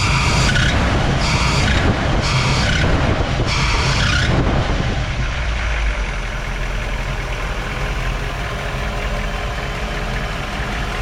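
A 1959 Chevrolet Bel Air with a 348 engine and Rochester 4-Jet carburetor accelerates, its belts squealing in a loud, rising burst for the first few seconds before the engine settles into a steady running drone.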